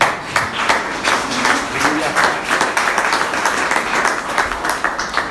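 Church congregation applauding together, a steady wash of many hands clapping at moderate loudness through the whole stretch, with some voices mixed in.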